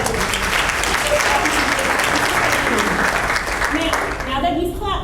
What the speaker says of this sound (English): now that you've clapped for all of them